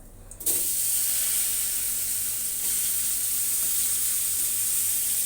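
Cumin seeds and green banana hit hot oil with a sudden loud burst, then settle into a steady, close, continuous sizzle that holds for several seconds with no talking.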